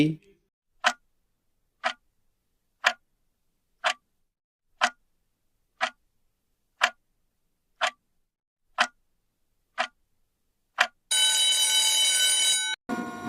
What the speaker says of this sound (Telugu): ఆన్సర్ గడియారం